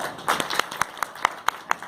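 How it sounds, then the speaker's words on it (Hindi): A few people clap in response to a call to applaud at a public speech on storage and pension plans, with sparse, uneven individual claps rising over about two seconds before fading out. "तलवाड़ा जी के लिए एक बार जोर से ताली बजाओ"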